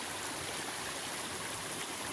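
Creek water flowing in the New Zealand bush, a soft, steady babbling rush heard close by, faint and continuous with no voices.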